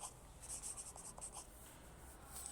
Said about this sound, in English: Can you hear the scratching sound made at the other end of the table?